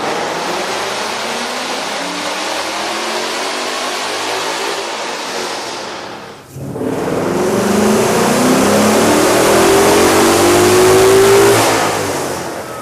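A car engine fitted with a K&N 63-2590 air intake revs loudly, dips briefly, then surges again with a rising roar and rushing intake noise; no voices.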